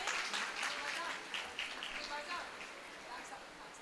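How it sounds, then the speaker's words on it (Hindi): Audience applause at a Jain religious training camp prize ceremony, a soft, fairly distant patter of many hands clapping, steady and light, fading slightly toward the end. "सब लोग तालियों में थोड़ी सी तेजी रखें।"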